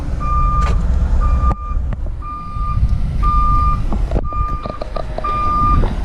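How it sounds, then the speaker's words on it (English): Bunker fuel trucks at a ship's dock, with a loud repeating reversing beeper sounding in regular pulses over a steady low truck engine rumble close by. "These are the bunker fuel trucks. They're refueling the ship."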